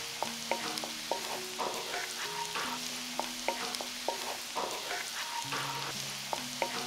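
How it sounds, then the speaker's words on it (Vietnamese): Steady sizzling of shallots and garlic frying in hot lard, with light clinks and scrapes of a utensil stirring the pan at an even pace. "Còn lại phần nước mỡ trong chảo thì mình cho hành tím và tỏi vào"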